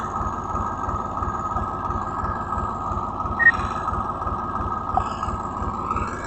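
Low, rhythmic chugging of a tractor engine running steadily close by as it ridges soil in a castor field, with a faint brief squeak partway through.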